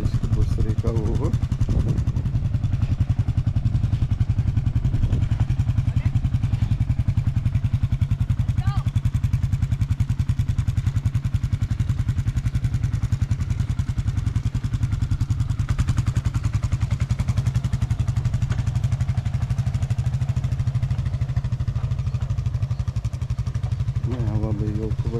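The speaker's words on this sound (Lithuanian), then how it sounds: "Labai jauku važiuoti su motociklu." A motorcycle engine drones steadily at a low pitch throughout a ride, with some talking partly over it.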